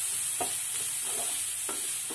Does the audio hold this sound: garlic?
yes